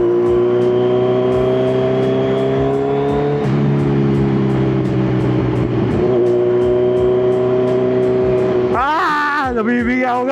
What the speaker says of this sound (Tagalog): grabe ang lakas ng pipe na ito.